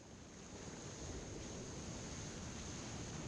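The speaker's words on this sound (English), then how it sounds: "we're going to look at plunging waves first" Ocean surf at Carolina Beach after Hurricane Sally, a steady, loud roar of breaking waves with constant wind noise on the microphone and no voices.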